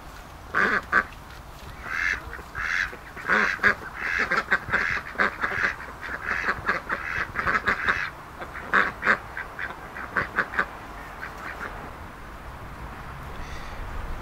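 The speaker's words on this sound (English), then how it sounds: "This is our duck run." Ducks quack repeatedly in a suburban backyard duck run in wet autumn weather, a busy cluster of loud, close honking calls in irregular bursts that thin out toward the end.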